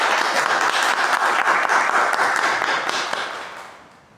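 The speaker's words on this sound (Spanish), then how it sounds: "felicidades, un aplauso otra vez." A crowd applauds with dense, steady clapping that gradually fades out over a few seconds.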